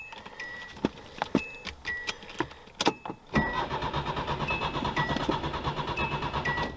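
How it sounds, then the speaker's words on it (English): A few clicks and a warning chime, then the starter motor of a classic Japanese car cranks the engine steadily with a rapid rhythmic whir, fairly faint and sustained without catching. "Starter sounds pretty good."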